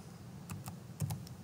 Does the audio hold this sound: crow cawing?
no